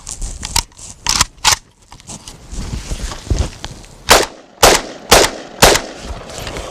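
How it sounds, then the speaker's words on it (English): An AK-47 rifle caked in mud after a mud test fires single rounds outdoors: a few scattered handling clicks and shots, then four sharp, loud, close gunshots in a fairly even rhythm. "We're gonna fire off some rounds just to make sure that we're okay unfouled."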